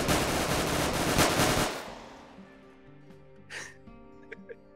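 A video game gun firing in a rapid, loud automatic burst that cuts off after about a second and a half, followed by quieter game sounds and a brief vocal gasp.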